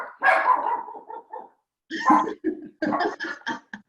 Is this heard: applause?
no